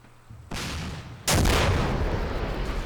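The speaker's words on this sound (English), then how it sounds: "gets a rocket off." A rocket launch in the video game Combat Mission: Black Sea, an abrupt loud whoosh-blast that jumps in twice in quick succession and sustains as a roaring burn, with no talk.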